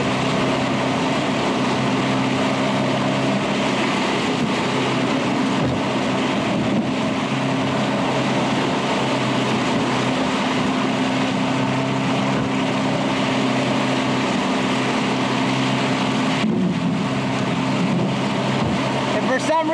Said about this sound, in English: This is where you don't want the motor to shit out on you.